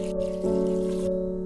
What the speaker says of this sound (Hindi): और 3 ग्लास पानी डालेंगे इसमें।